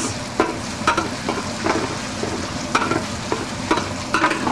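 Chicken stir-frying in a hot, powerful wok, with a continuous sizzle and frying hiss broken by regular scraping clanks of the spatula stirring, close and fairly loud.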